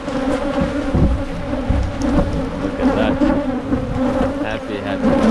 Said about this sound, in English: I want to show you what the bees are doing at the back.